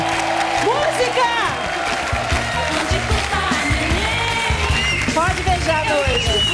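An audience claps and cheers for a couple's wedding ceremony on a televised stage, a dense crowd of applause and whoops under loud speech and music.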